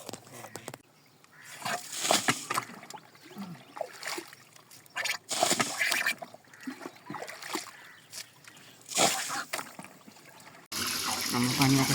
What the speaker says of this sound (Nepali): यत्रो पानी आएको छ तिरेर आउँछ